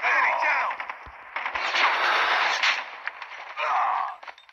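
Game gunfire from Call of Duty Mobile multiplayer fills the clip, dense rapid bursts of shots running almost continuously with brief pauses, loud and close.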